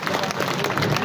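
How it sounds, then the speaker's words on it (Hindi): A crowd at an election rally in the Braj region applauds to welcome the chief minister, a dense, steady wash of many hands clapping at once with murmuring voices mixed in. "माननीय मुख्यमंत्री जी के स्वागत में भी जोरदार तालियां बजा दीजिए।"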